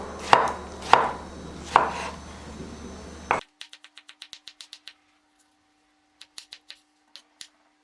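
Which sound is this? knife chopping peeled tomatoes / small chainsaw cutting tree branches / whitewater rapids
knife chopping peeled tomatoes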